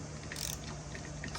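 A ratchet clicks in short bursts while snugging up the clutch cover bolts on a Kawasaki KLX140 during a heavy-duty clutch install, quiet and close, with no talking.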